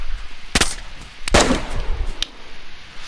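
Gunshots strike the player in the video game DayZ: two sharp, loud cracks about three-quarters of a second apart, with a fainter third shot trailing after. A short noisy tail follows each shot.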